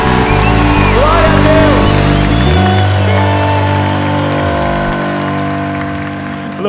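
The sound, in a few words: congregation applauding and cheering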